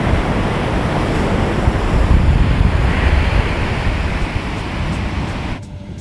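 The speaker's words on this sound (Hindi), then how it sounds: "एक बार फिर से मैं आपको समुद्र का व्यू दिखा दूँ।" Sea waves at a beach roll in as a loud, steady, broad wash mixed with wind buffeting the microphone, with no voices.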